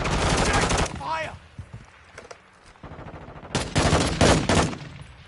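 Call of Duty: Modern Warfare 2 gunfire, loud rapid automatic bursts at the start and again near the end, with a quieter gap of scattered sounds between.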